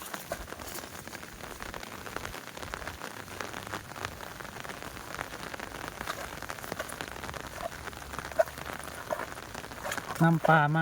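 Heavy rain falls at night during flooding in southern Thailand, a dense, steady patter on surfaces throughout, with a brief voice breaking in near the end.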